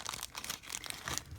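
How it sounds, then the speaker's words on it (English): A plastic bag crinkles and rustles as a new casting mold stamped with a V is pulled out of it, in short crisp bursts of crackling close by, with no talking. "I'm going to take it out of the plastic bag here."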